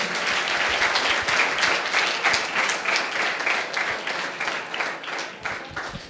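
An audience at a college talk session at Mahendra Junior College breaks into loud, sustained applause, a thick wash of many hands clapping close by for about six seconds, fading slightly toward the end.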